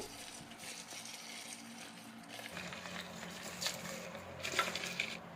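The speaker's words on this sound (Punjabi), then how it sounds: "ਹੁਣ ਇੱਕ ਡੰਡੀ ਜਾਂ ਸਟਿਕ ਨਾਲ ਸਾਰੇ ਇੰਗਰੀਡੀਐਂਟਸ ਨੂੰ ਆਪਸ ਵਿੱਚ ਹੌਲੀ-ਹੌਲੀ ਕਰਦੇ ਹੋਏ ਮਿਕਸ ਕਰ ਲੈਣਾ ਹੈ" Strawberry mocktail ingredients are mixed slowly with a stick in a glass, giving faint, soft swirling and a few light clinks against quiet background noise.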